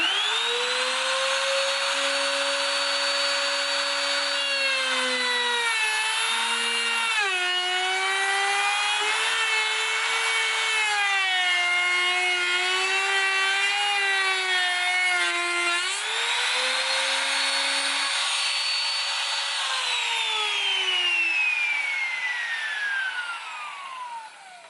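A Ryu RTR 6-1 wood trimmer router whines steadily at close range as it spins up, then its pitch dips and wavers while the bit cuts into wood, and it rises again as it runs free before winding down at the end.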